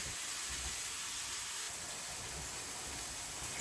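Summer squash, salted and with about a third cup of water added, steams in a pan over raised heat, giving a steady, faint hiss and sizzle that continues with no talking.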